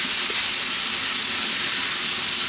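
Chopped fresh tomatoes cook in a pan for a chicken stew with a steady, even sizzling hiss, continuous and close, with no talk.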